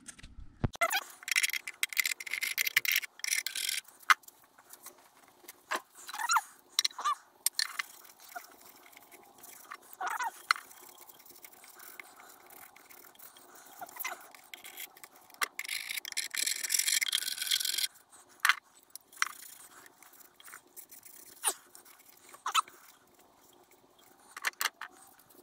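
Rag wiping and rubbing greasy Victor safe lock parts, a series of irregular soft scrubbing and scraping strokes, close and fairly quiet, with no talking.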